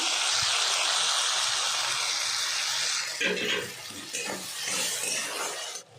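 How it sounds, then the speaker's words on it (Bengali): Water used to rinse a bowl is poured into a pan of frying mustard and poppy seed paste with tomato and green chilli, a steady rushing hiss that breaks into uneven splashing and sputtering near the end. "এবার বাটি ধোয়া জলটা দিয়ে দেব, তাহলে মশলাটা পুড়বে না।"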